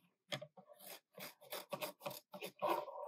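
Scissors cutting fabric close along the edge of a wooden hoop, a quiet, close series of short crisp snipping and rasping strokes with brief pauses between them.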